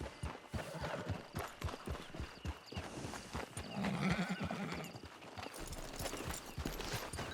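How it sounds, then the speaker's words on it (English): Horse hooves clip-clop steadily at a walk in a video game, with a brief whinny partway through, all fairly close and continuous with no talk over it. "Get your horse."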